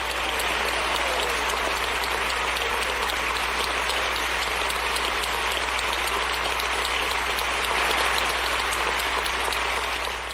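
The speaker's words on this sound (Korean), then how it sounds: "기립박수를 이렇게 쳤습니다." Members of the Canadian parliament give a standing ovation after Zelensky's address: a thick, unbroken roar of clapping from a large chamber, loud and even throughout with no distinct voices.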